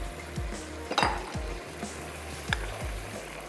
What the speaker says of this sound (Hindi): ताकि गोश्त भी इसके साथ अच्छा सा भुन जाए मसालों के साथ